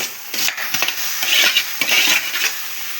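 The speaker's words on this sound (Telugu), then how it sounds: "ఇప్పుడు మనం ఈ చెంచుల కూరని ఇందులో వేసుకోవాలన్నమాట" Leafy chenchala greens tipped into a pan of softened tomato make soft clattering and scraping of utensil against the pan, with brief knocks and a faint background hiss, close and moderately loud without talk.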